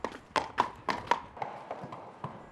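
Horse hooves clip-clop in an uneven rhythm at a training area in Hungary, several sharp strikes up front, then fainter steps easing off as the horse slows to a stop.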